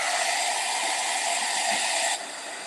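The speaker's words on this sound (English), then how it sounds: "let's hit this with the heat gun again" A heat gun blows hot air over freshly painted rocks with a steady, loud airy hiss and whoosh, holding constant before dropping slightly in level near the end.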